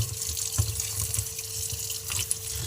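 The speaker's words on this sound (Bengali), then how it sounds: "যে সবজিগুলো ভালো করে ধুয়ে নিই।" Steady running water from a tap splashes over bitter gourd leaves and vegetables being rinsed in a kitchen sink, with soft irregular drips and handling sounds, close and continuous, no voices.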